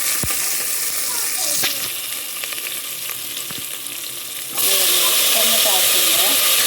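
Masala sizzles and hisses steadily in a pan for a Mangalore village-style prawn curry, with a few stirring clicks, then the frying grows louder and brighter near the end as more goes in.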